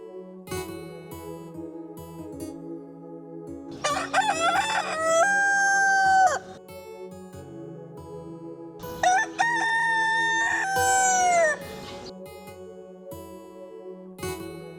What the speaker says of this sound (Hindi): ये वाकई में मुर्गियां बोल रही हैं कि मेरे ही कान बज रहे हैं?